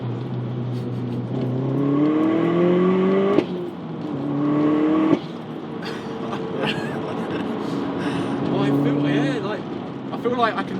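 Stage 2 VW Golf Mk4 GTI accelerating hard through the gears, engine note climbing in rising sweeps broken by abrupt shift cuts, loud and close from inside the car while occupants talk over it.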